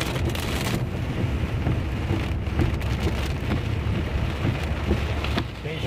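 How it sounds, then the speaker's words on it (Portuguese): Heavy rain drums steadily on a car moving through Divinópolis, a dense continuous patter with low road rumble beneath and a few louder gusts of drops, sustained throughout with no talk. "Começou a chuva agora"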